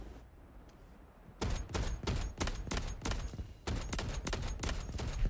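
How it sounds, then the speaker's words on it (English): A cannon fires in the Delta Force video game, producing a run of loud, heavy blasts in quick succession over a rumbling battlefield background. "There is some big recoil low on that cannon, as it should be."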